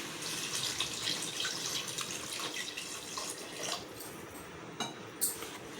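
Water pours steadily into a cooking pot in a close, continuous splashing stream, with a few small drips and clinks near the end.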